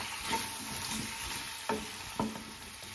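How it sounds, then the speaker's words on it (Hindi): Spiced potatoes for aloo jeera, with chili powder, turmeric, coriander and dry mango powder, sizzle softly in a pan while a spoon scrapes and stirs in a few distinct strokes; quiet and close, no talking. "इसे अब मिक्स कर देंगे।"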